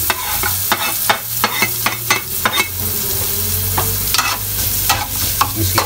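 Garlic fries in a pan with a steady sizzle while a utensil scrapes and clatters against the metal in quick repeated strokes, close and clear with no talk.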